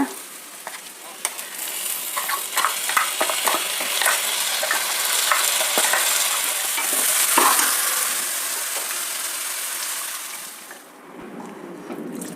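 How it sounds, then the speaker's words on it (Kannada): Ground masala fries in a pan with onions and tempering spices, a loud close sizzle with scraping stirs and occasional splashes, fading sharply near the end. "ರುಬ್ಕೊಂಡಿದ್ನಲ್ಲ ಆ ಮಸಾಲೆ ಹಾಕೋಣ"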